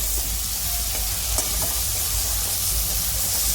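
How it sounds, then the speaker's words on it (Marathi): Tomato frying with sprouted moth beans (matki) for Kolhapur-style misal, a steady close sizzle with faint stirring scrapes and no voices. "मी आता थोडासा टोमॅटो एक एक टोमॅटो टाकलाय आता तो चांगला भाजला गेला पाहिजे"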